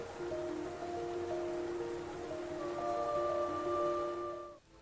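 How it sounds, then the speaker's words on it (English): Steady rainfall in the City of Tears from the video game Hollow Knight hisses across the whole clip, with faint tonal hums and chimes layered underneath and a brief dip near the end. "Like the rain in the City of Tears"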